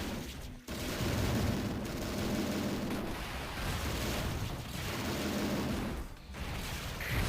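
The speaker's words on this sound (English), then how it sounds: "This walking tin can is firing at it." Sustained video-game gunfire from a walking robot in Transformers Autobots on the DS, a dense, continuous barrage of shots and blasts that runs almost without break and stays loud throughout.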